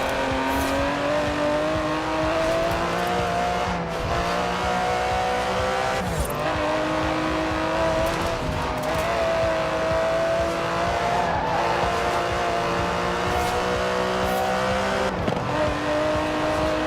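Aston Martin DB11 with a 5.2-litre twin-turbo V12, driven in the racing game Forza Horizon 4. The engine roars steadily and loudly, rising and falling through revs and gear shifts, with some tire squeal throughout.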